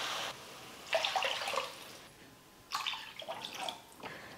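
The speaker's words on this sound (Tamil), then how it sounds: "1 கப் ரவைக்கு மொத்தமாக நான் வந்து 3 கப் அளவுக்கு தண்ணி சேர்க்க போகிறேன்." Water being poured into a pan for rava kichadi, two separate close splashing pours of about a second or more each, separated by a quiet pause.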